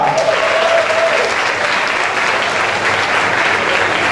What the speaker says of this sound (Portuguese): aplaudem agora.